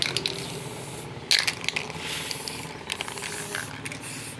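Pylox spray paint hisses onto a DIY truck fuel tank cap in short close bursts, mixed with rattling and clicking from the can and handling noises.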